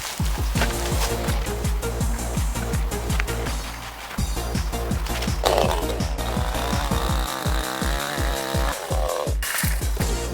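A chainsaw fitted with a carbide chain runs loud and close, cutting a walnut tree, its engine buzzing with rapid pulsing rhythm as it bites into wood, the pitch dipping and rising under load.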